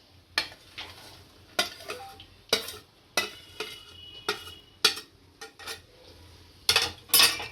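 Sweet potato sheera with roasted dry fruits and sugar is stirred in a pan, a spoon clinking and scraping against the metal in close, irregular bursts over a soft background hum.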